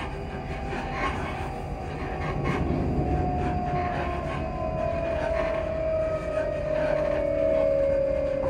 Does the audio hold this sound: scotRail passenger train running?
yes